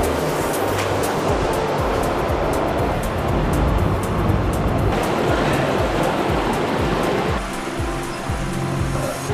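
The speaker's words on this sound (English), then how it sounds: "Last time we came, there wasn't this much water flowing." Steady, loud rush of a stream flowing high on a hiking trail fills the whole stretch, a continuous broadband roar with no voices.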